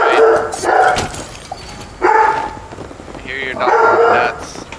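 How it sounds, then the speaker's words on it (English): A dog barks in bursts at home behind a gaming voice chat, several loud barks and yips spaced across the moment, with people talking over them. "I hear your dog."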